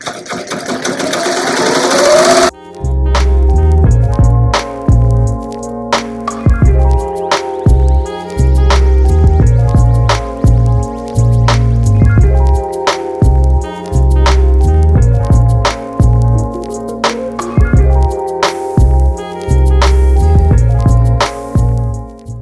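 A Ricoma embroidery machine sews a satin stitch around the face and ears of a faux leather in-the-hoop bookmark. The loud, steady rhythmic clatter of fast needle strokes carries on with no talk over it.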